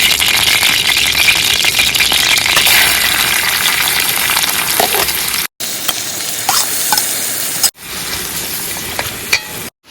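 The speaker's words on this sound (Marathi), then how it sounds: "तेल तेल आपण टाकून घेऊ पहिला आणि इकडे कांदा टाकूया" Onion fries in hot oil with a loud, dense, close sizzle and crackle, mixed with stirring rattles and broken by two abrupt cuts, and no one talks.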